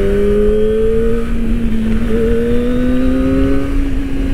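A 250cc four-cylinder Kawasaki Ninja ZX-25R SE motorcycle being ridden, its engine giving a loud, high, continuous whine that holds steady, rising slightly in pitch partway through, with no voices over it.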